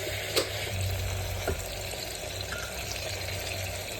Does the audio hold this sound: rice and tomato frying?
yes